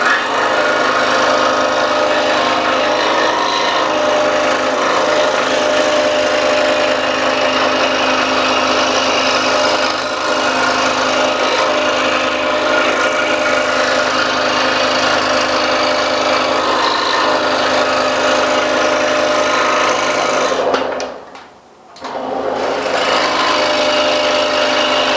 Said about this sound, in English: So let's go to the scroll saw and cut it out.